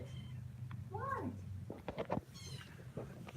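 A young kitten whines and gives a few thin, rising meows, close and fairly soft, separated by short pauses over quiet room noise.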